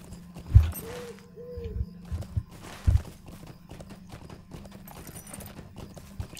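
Horse hooves clip-clop in Lord of the Rings Online, a steady close walking rhythm of muffled thuds with a couple of louder stamps, over low game ambience.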